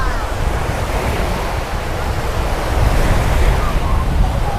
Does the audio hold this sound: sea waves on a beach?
yes